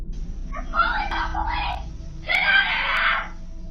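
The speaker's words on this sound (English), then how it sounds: "the obvious screams from the girl inside as she notices the men at the door" A girl inside a house screams in two loud, shrill bursts, picked up by a doorbell camera with a low background hum.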